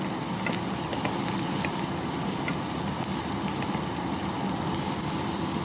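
Chopped onions sautéing in a pan for a Jaffna-style baby chicken curry, a steady dense sizzle that holds even and fairly loud throughout with faint crackles, no voices.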